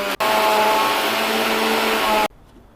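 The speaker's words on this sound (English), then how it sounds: "Now let's grind the rava for just a minute or 2." A mixer grinder whirs loudly and steadily for about two seconds while grinding idly rava, then cuts off abruptly to near silence.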